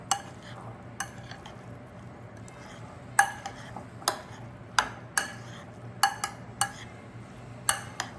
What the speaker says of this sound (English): Let's just have it a quick mix through